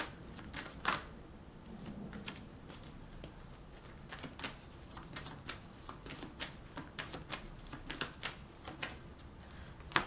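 Tarot cards shuffled and drawn, a long run of quick, crisp riffling clicks and slaps with steady rhythm, close and fairly quiet, no voice.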